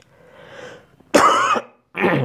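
Two harsh, close coughs in quick succession, preceded by a quiet breathy sound.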